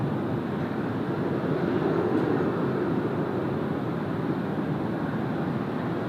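An Air Canada airliner takes off at Sydney Airport, its engines a steady, broad roar held at an even level throughout, heard from a distance with no voices.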